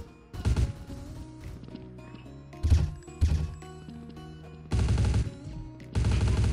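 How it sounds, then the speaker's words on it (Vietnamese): Automatic fire from the Viket gun in the shooter game Truy Kích comes in several loud rapid bursts of varying length, separated by short pauses and scattered single shots, over faint game ambience. "Xả cái đống đạn của con Viket"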